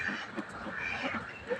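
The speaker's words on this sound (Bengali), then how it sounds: "কত হাঁস দেখো" A flock of ducks quacks nearby outdoors, short nasal calls overlapping in a busy, moderately loud cluster.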